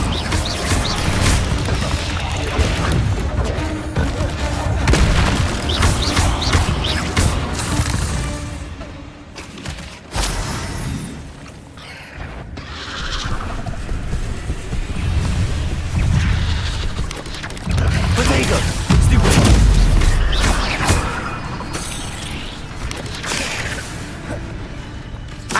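In Hogwarts Legacy, fire spell blasts and combat bursts hit spiders in a dense, chaotic stretch of booms, crashes and whooshes. A voice calls out spells at times over the game sounds.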